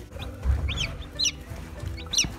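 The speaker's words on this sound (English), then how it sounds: "So there's about 19 birds in here now." Around nineteen newly hatched chicks in a brooder give repeated high peeping chirps, a few clear calls spread over a low rumble of background noise.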